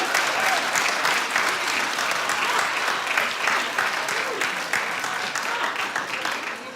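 Studio audience at a talk show clapping in a dense, sustained burst that holds steady for several seconds and fades slightly toward the end, with a voice faintly beneath it.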